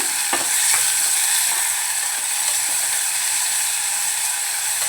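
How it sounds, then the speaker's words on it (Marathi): Finely chopped onion sautéing in hot oil with crackling cumin and mustard seeds for a Malvani-style onion and chana dal dish, a steady close sizzle with occasional stirring clicks and no voices. "आता आपण जो कांदा घेतलाय बारीक चिरून तो घालून घेऊया छान परतून घेऊया"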